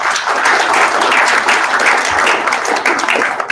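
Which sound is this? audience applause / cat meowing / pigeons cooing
audience applause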